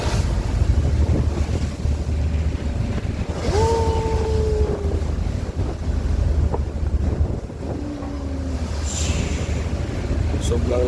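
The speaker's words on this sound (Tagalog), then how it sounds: "Sobrang lakas ng alon guys" Strong ocean waves batter a boat crossing from Siargao to Surigao, with heavy wind buffeting the microphone and a constant roaring wash of water and engine rumble, plus a few brief tonal squeals, loud and close throughout.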